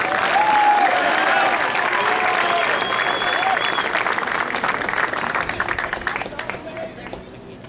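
Loud, dense applause from a crowd at a high school senior night walk honoring the class of 2020, with scattered cheers and whistles over the clapping, gradually fading toward the end.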